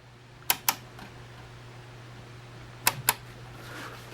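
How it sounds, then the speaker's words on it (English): The selector switch on a Pioneer SA-5500 II stereo amplifier clicks in two crisp pairs of close, sharp detent clicks separated by a pause, over a quiet background hum. "This is how the selector of this Pioneer is supposed to sound like."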